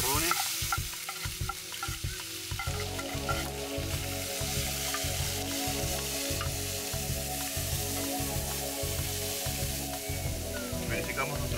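Onion and bell peppers sizzle and fry in oil in a pan over a wood fire, a steady loud crackle broken by regular rhythmic scraping and stirring strokes throughout.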